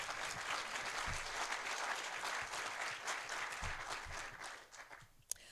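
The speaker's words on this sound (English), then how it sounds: "That's worth applauding." Sustained audience applause at the NC Literary Hall of Fame induction ceremony, dense steady clapping filling the room for several seconds before tapering off near the end, with no speech over it.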